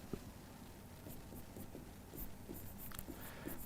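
Marker or chalk writing out a word on a board during a physics lesson, heard as faint, quick scratchy strokes in short separate taps against a quiet room background.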